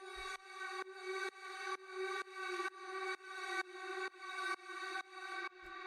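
A techno drone synth patch called Churn Number 2, a sustained harmonic tone pulsing in about a dozen even, repeating swells with sharp resets, steady and alone.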